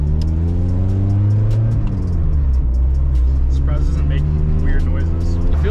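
A VW Mark II car's engine idles and revs steadily as it is pulled out of a garage, a loud continuous drone with a rising rev partway through, while people talk over it.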